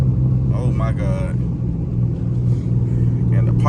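A 392 V8 car with a freshly repaired exhaust leak rumbles loudly up close, with crackling pops breaking through under excited talking throughout.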